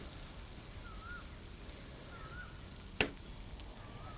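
Seared squid and its juices sizzle in a hot pan as they are tossed with chilli for a Mangalorean fry, a soft continuous hiss broken by one sharp clack of utensil or pan near the middle.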